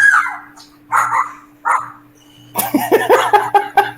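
A police K9 unit dog barks several times in short sharp bursts, close and loud, with a faster run of yips and barks toward the end.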